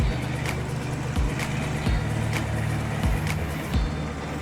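An HTR-855 tractor engine runs steadily while pulling a disc plough through a field, a continuous low diesel drone with periodic rhythmic thumps and rattles, close and loud, with no talking.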